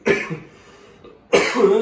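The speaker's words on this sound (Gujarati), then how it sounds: "થોડી ખાંસી આવી ગઈ" Two bursts of coughing, a short one at the start and a harsher, louder one near the end, separated by a quiet pause.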